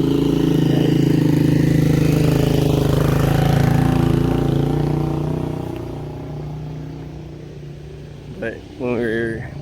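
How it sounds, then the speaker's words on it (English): Motorcycle trike passing on a rural country road, a loud, close engine drone that fades away over several seconds, followed by a person speaking. "Yeah, trike."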